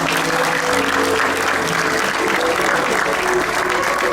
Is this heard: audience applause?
yes